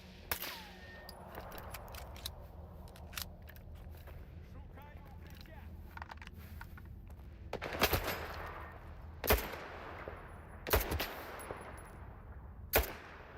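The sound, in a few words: gunfire in video game S.T.A.L.K.E.R. 2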